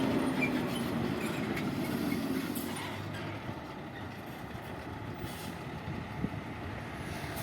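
A truck sits near a shed, its low rumble steady and moderately distant under faint background noise, with a brief sharp knock near the end.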